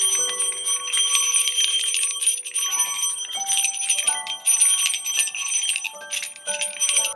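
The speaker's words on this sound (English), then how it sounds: "I ring my bell 3 times in a clockwise circle." A small ritual bell rings three times during a Yule candle magic rite, each bright clear strike ringing out and decaying, with overlapping metallic tones sounding close and alone.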